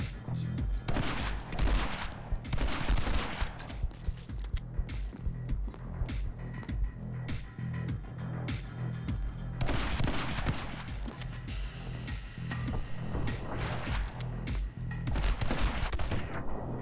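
Shotgun fire in the video game My Friend Pedro, loud blasts in rapid clusters and bursts throughout, with someone talking over the gunfire.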